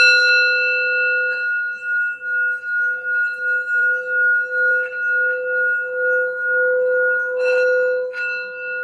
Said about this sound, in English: I'm going to do a quick sound bell just to help ground the reading and get some healing